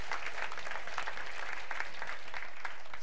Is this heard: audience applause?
yes